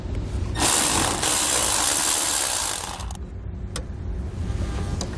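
A ratchet works a 13mm bolt loose from the top of a brake pedal arm inside a 2015 Chevrolet Equinox, a fast, continuous clicking burst lasting a couple of seconds, close up, followed by a few lighter ticks.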